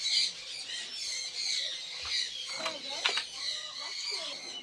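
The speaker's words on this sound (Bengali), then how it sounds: "এই যে আমার পছন্দের দুইটা কবুতর, কালো চোখের মাকড়া চোখের কবুতর" Pigeons, a pair of black-eyed birds kept in a loft, give several short squawking calls over steady high chirping and background bird noise, fairly close.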